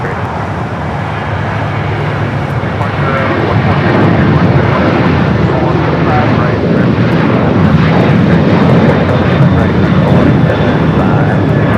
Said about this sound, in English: That's the flight heading to Portland, flight 1355 is 737-800